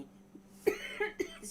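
A brief cough during a live show, a couple of short sharp bursts with a faint hum underneath and no speech over it.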